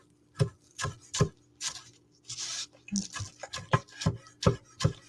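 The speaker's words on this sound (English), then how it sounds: "I'm going to use these green onions as well, as I massacre them with my knife" A knife chops green onions on a cutting board in a steady series of crisp, close thuds, roughly a dozen in five seconds, with a brief rustle of the onions being gathered partway through.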